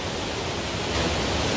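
Rushing water at Dataw Gyint Waterfall near Mandalay, Myanmar, makes a constant loud broadband roar with no pauses, close and continuous throughout.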